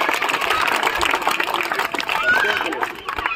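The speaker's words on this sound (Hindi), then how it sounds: "तालियां बच्चों" Children at a school result ceremony applaud a gold medal winner, a dense, steady wash of many hands clapping in a room, with voices chattering underneath throughout.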